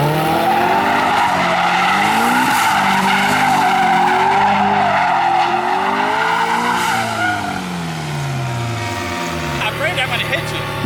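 A car drifts on a public street with its clutch kicked. The engine revs hard and drones, and long tire squeals rise and fall over it. It is loud and close. A brief voice is heard near the end.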